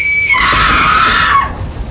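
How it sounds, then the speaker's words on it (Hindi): A woman lets out a single loud, piercing scream of pain that rises, holds and breaks off sharply within a story. "यह चीख इतनी दर्द भरी थी कि हर सुनने वाले की रूह कांप जाती।"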